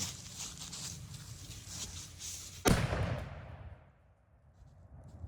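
A cannon fires once as a single sharp, loud boom, with the blast rumbling and then fading into quiet over the outdoor background noise.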